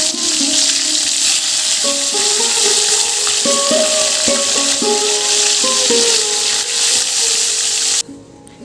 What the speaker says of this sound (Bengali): আর এখানে হচ্ছে আলু, শিম, বরবটি আর মটরশুঁটি দিয়ে একসঙ্গে ভাজা করছি।